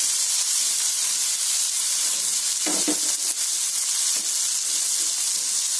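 Bengali-style spice paste sizzles loudly in a pan, a steady close hiss of frying with a brief stirring scrape in the middle, no talking.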